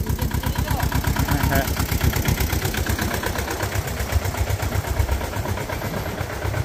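A tow truck's engine idles close by with a loud, steady, pulsing throb that holds an even rhythm throughout, while voices are heard over it.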